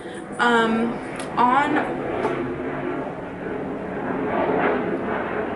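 An airplane flies overhead as a steady, broad engine roar, heard from a distance in the background and fairly loud. A voice speaks briefly near the start over the drone.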